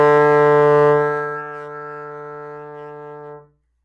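Trombone sounding a single sustained D in fourth slide position, loud and steady at first, then softening and holding before stopping cleanly, played alone.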